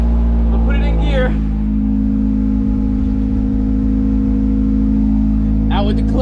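A Honda CRX Si DOHC engine idles steadily and close, a low constant drone with a slight shift as it is put in gear, while someone talks briefly at the start and end.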